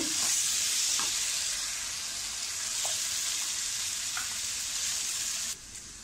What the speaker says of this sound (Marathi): मी काजू टाकते, हे थोडे परतून घेते।